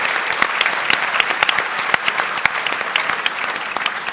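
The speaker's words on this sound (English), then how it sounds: "a massive round of applause for Adapting with Age" Audience applause at a national housing summit, a dense steady clapping from a large indoor crowd, loud and sustained throughout with no speech.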